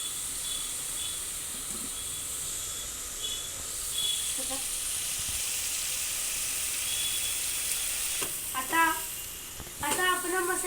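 Masala with red chilli powder and curry leaves frying in a hot pan, a steady soft hiss of sizzling oil running throughout, with a few brighter crackles and spatters near the end.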